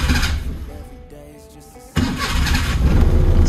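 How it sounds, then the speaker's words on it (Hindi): A 1986 JDM project car with a jammed carburetor cranks for about a second and a half, then catches and fires into a louder, rough running engine that builds slightly. "स्टार्ट हो गया गाड़ी, देख सकते हो गाड़ी अंदर जाएगा."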